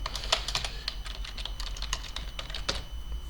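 Keys clatter on a computer keyboard as text is typed into a Word document, a quick irregular run of close, crisp clicks lasting a few seconds over a faint low hum.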